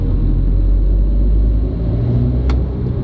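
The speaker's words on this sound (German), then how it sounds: "Wenn ich jetzt mal das Gaspedal voll durchdrücke," A car's engine labouring with the accelerator pressed fully to the floor at low revs, a loud, steady low rumble that barely builds over a few seconds, with a brief faint squeak near the end.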